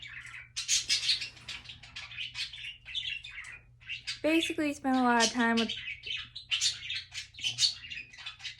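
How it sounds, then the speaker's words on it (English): Birds chirping and squawking indoors in a room, near and fairly loud, with busy repeated tweets and one longer squawking call, heard under a person talking quietly throughout. "the birds. Before they got here, it was really quiet in here."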